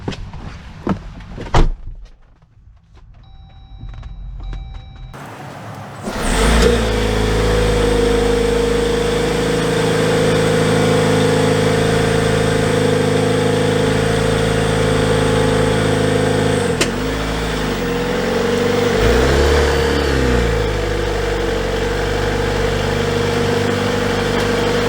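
Jeep Wrangler Rubicon 4xe plug-in hybrid starting up and setting off, with a door clunk and quiet cabin noises followed by a steady mid-pitched engine hum that rises and falls slightly as it drives, no one talking.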